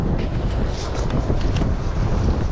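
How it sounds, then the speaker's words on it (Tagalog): Light wind buffets the microphone in a steady rush, with a faint watery, open-air background. "Slight lang yung hangin."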